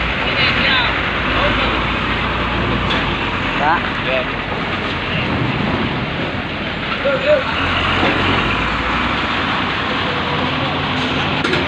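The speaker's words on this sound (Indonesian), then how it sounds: "Nah ini dia teman-teman, ada trailer bawa besi." Heavy trailer truck hauling a load of steel rolls past at the Merak ferry port, a steady loud rumble of engine and road noise over continuous outdoor din.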